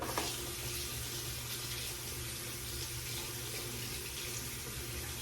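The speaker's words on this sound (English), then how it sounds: "Need to give it a rinse." Steady stream of tap water runs continuously into a sink while a razor blade is rinsed under it, a close, even rushing with no talk.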